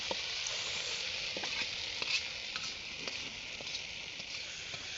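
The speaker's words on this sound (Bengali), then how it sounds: "সম্পূর্ণটা ঢেলে দেওয়া হলো বাগার" Hot tempering poured into a pot of traditional Jamalpur milli hisses and sizzles steadily at close range, a bright continuous crackle with faint stirring clicks and no speech.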